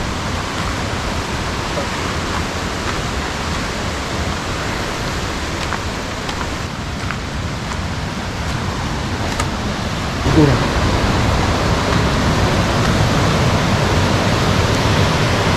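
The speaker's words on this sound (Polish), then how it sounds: "Fajna kaskada. Piękny. Ciukas Falls." The Ciucaș waterfall cascade in Romania gives a loud, steady roar of falling water that fills the scene without pause and grows slightly louder toward the end.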